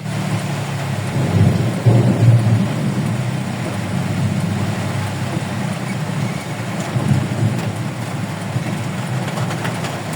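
Heavy rain pours steadily with deep rumbling thunder rolling underneath, loud and continuous throughout with a stronger rumble near the start.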